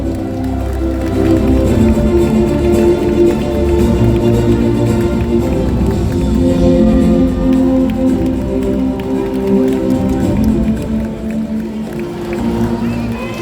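Audience at a Democratic Party convention in Gwangju and South Jeolla applauds and cheers a speaker, a dense, steady wash of clapping and crowd noise that holds loud and continuous throughout.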